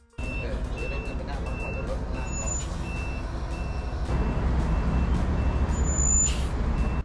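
An electric minibus on the EV NEX Express Bangkok–Sriracha route pulls in and stops beside a shopping mall, giving a steady low vehicle rumble with repeated high reversing beeps nearby and a brief hiss at the end.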